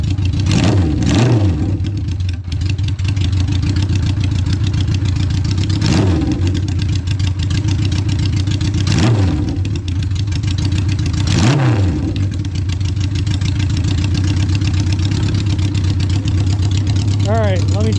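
A 1972 Honda 500 Four motorcycle engine running steadily at a loud, close idle, with a low throbbing drone and several brief revs rising and falling throughout.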